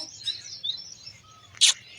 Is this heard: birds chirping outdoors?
yes